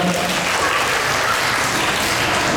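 An audience claps at a children's Sunday Mass, a dense, steady wash of applause filling the room for a couple of seconds with no voices over it.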